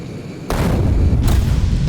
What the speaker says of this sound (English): see how violent this explosion is